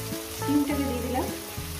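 Flat beans dropped into a frying pan with rohu fish belly pieces set off a strong, close sizzle that swells and then settles, with a tonal musical backdrop underneath.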